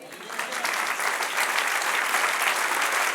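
A church congregation breaking into sustained applause, a dense wash of clapping that swells within the first half second and then holds steady and loud to the end.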